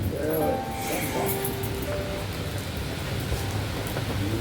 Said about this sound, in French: Ah, il pleut, hein?